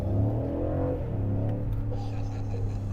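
A 2022 BMW M550i with a 530 hp twin-turbo V8 in sport mode hums at low-speed cruise, a deep, steady engine drone that swells slightly, heard from inside the car.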